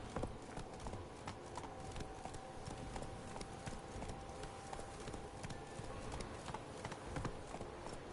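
The horse Roach gallops in The Witcher 3, a steady, fast clip-clop of hooves at moderate level, continuous and rhythmic over a low background.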